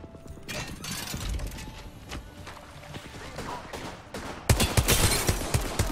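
Gunfire in Apex Legends rattles in quick bursts and scattered shots, growing louder and denser in a sharp volley near the end, with faint game noise underneath.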